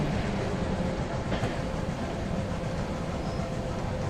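Train rolling steadily in a train simulator game, a continuous low rumble with faint rail clatter, no talking.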